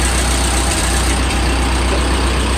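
A World War 2 era Ford 9N tractor engine, fitted with many new parts, runs steadily at idle in neutral, a loud, constant low rumble close by with no talking.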